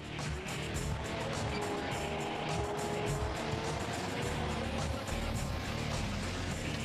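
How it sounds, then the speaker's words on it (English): A tracked Bradley fighting vehicle drives along, filling the space with a steady, loud, unbroken roar of engine and running gear that holds at the same level from start to finish. "The first thing you noticed about driving the Bradley is that it steers just like a car"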